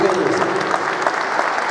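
Sustained audience applause at a political rally for a mayoral candidate proclamation in Zapala, a dense, steady clapping from a crowd lasting the whole moment without any speech.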